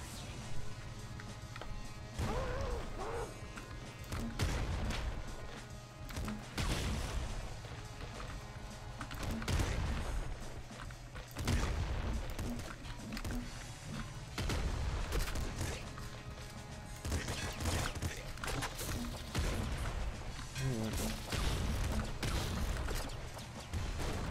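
Rapid gunfire and grenade launcher shots from the top-down shooter game Nuclear Throne, a dense, continuous barrage of sharp bursts and thuds over game music, steady and loud throughout.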